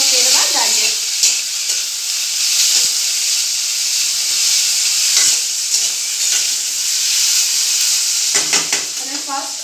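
Potatoes and carrots stir-fried over a medium flame for vegetable fried rice, giving a loud, steady sizzle with intermittent scraping and stirring clatter throughout.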